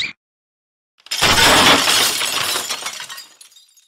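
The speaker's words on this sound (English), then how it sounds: "How dare you throw your dinner at the wall?" A dinner plate hurled against a wall shatters in a pizza restaurant setting, a sudden loud crash of breaking crockery followed by scattering shards that fade over a couple of seconds.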